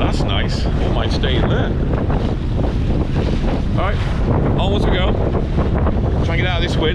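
Strong wind buffeting the microphone while riding a Sea-Doo on open water, a constant loud roar with engine and splashing beneath and voices talking intermittently.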